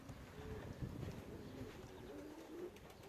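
Racing pigeons cooing softly at a loft after landing from a 360 km race, a low continuous murmur of coos at moderate distance with faint background noise.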